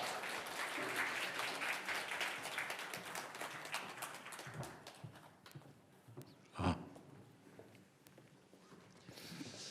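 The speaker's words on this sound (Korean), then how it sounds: "나오실 때 우리 박수로 환영하도록 하겠습니다." Church congregation applause welcoming the pastor to the front, dense clapping that thins and fades after a few seconds, with scattered footsteps, a brief clatter and low background noise remaining.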